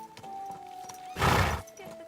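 A horse in Kingdom Come Deliverance II gives a short, loud snort or whinny of about half a second over faint ambient hum.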